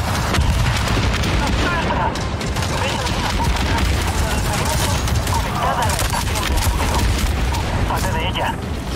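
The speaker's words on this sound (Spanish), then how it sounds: "Este está disparando la granada." Grenade launches and explosive booms in an Avatar: Frontiers of Pandora firefight mix with dense gunfire, forming a loud, continuous battle din with a few sharper blasts, while voices talk partly over it.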